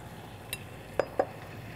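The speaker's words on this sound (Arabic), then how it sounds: "ممكن في الوقت ده استغله ان انا اكسر البيض" Eggs are cracked for crème caramel with two quick, close taps against a bowl a fraction of a second apart, following a faint clink, over a low kitchen background hum.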